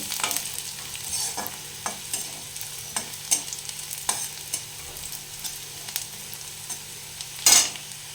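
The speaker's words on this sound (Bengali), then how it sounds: "এইভাবে একটু ভেজে নেব" Dry red chillies frying in oil in a pan while making Bengali biulir dal, a soft steady sizzle broken by repeated light scrapes of a stirring spoon, with one sharper clatter near the end.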